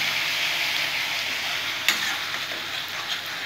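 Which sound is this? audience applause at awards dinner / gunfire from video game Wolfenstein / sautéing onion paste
sautéing onion paste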